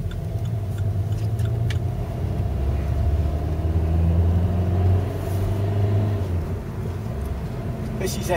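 The small 1.3-litre diesel engine of a Vauxhall Corsa 1.3 CDTi hums and revs steadily, its drone swelling briefly in the middle before settling back, with a few light ticks over the top.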